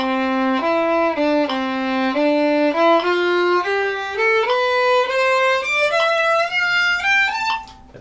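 Violin playing an ascending scale in a long-long-short rhythm, notes stepping upward steadily over several seconds, clear and close with no talking.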